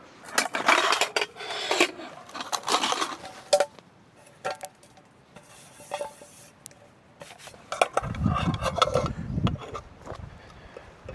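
A frying pan clanks and scrapes at a rainy campsite in Racha before mchadi cornbread is cooked, giving scattered metallic knocks and rattles, some close and loud, with quieter gaps and a rustling stretch near the end.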